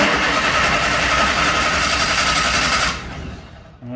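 A Bedford CA ice cream van engine turns over and runs with a rough, loud mechanical clatter close up in a workshop, then cuts out abruptly after about three seconds.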